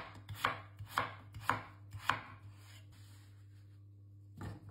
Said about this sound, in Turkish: İlk olarak bir adet büyük boy patatesi soyup doğruyorum